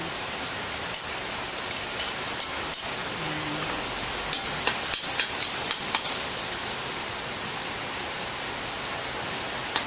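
Heavy rain from a typhoon pours down in a dense, continuous hiss, drumming steadily on surfaces with occasional louder splashes, close and loud throughout.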